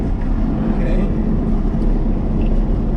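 Car engine fitted with a QJet carburetor pulling hard in third gear from 2000 RPM, a steady loud low rumble that holds even throughout.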